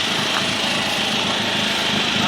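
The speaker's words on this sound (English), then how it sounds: "This Corsa from a distance almost sounds like a rotary." A Vauxhall Corsa rally car at a Scottish performance show drones from a distance, its engine a steady, high-pitched buzzing note that holds throughout.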